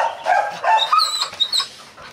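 A dog whines in greeting, a series of high, wavering squeals and whimpers close by, short and breathy, with no talking over it.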